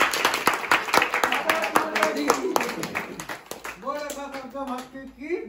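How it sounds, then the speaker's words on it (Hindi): A crowd claps hands at a birthday gathering as an honoured guest is invited to raise a flag, dense overlapping claps over steady background music and voices, thinning out toward the end. "ताली बजा।"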